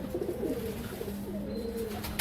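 Pigeons cooing close by in a steady low murmur of overlapping coos, with faint background noise throughout.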